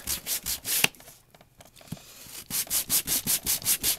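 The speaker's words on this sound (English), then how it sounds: "you're actually sanding off the coating of embossing powder a little bit" Sanding off a coating of clear embossing powder on a stamped paper image, quick rhythmic back-and-forth rubbing strokes, close and fairly soft, with a brief pause in the middle.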